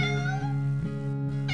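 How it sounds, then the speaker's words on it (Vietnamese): An injured stray cat in an animated film meows in a drawn-out, plaintive cry, then gives a second short meow, close and clear with no talking over it. "Ồ, một con mèo hoang."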